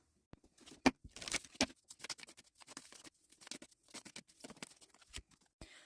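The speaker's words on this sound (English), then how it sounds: "let's just shuffle and see what it is that you need to hear" Soft, quick riffling and patting of oracle cards being shuffled by hand, irregular bursts close by in a quiet room.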